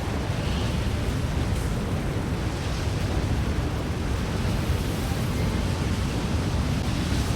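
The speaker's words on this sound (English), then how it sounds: "we got ourselves a little bit of tornado air right there" Tornado wind roars in Farming Simulator 25 as a steady, dense rush of broadband noise with heavy low rumble. It holds loud and unbroken throughout, with no speech over it.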